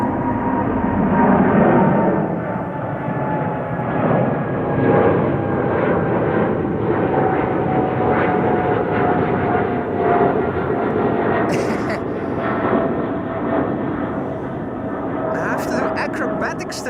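A Boeing 777 climbing after takeoff from Amsterdam Schiphol Airport gives a sustained, distant, broad jet roar that holds evenly throughout and thins slightly toward the end.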